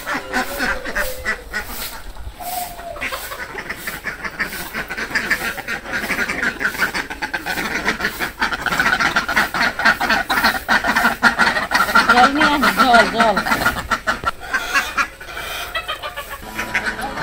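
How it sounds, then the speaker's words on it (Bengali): Ducks quacking in a village yard among other poultry, a busy continuous chorus of close quacks and clucks with hens mixed in. "হাঁস পিছে যায়"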